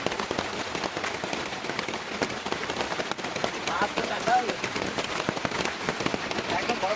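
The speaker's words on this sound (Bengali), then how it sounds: "বাইরে দেখো কিরকম বৃষ্টি হচ্ছে" Heavy rain drums steadily on a tent at a fishing camp in the Andaman islands, a dense close patter with sharp drop hits throughout.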